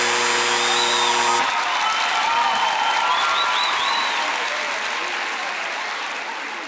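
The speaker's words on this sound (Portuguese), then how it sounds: "Mais aplausos em pé por esses trocadilhos, parabéns" Applause with some cheering at a comedy improv show, a steady dense wash of clapping that slowly fades; a short electronic tone sounds at the very start.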